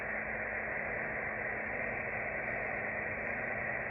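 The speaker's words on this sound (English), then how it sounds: "This is the sound of radiation from the Big Bang" Steady, even hiss of radio static from an empty SDR frequency, a dead band with no signal, faint and unbroken with a low hum underneath and no voices.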